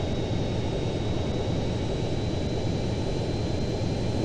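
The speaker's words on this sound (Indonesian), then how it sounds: "coba mendarat mulus agar pesawatnya tidak meledak" Steady airplane engine drone of a large plane in GTA San Andreas, with a broad rushing roar and a faint high whine, constant and unchanging, no speech.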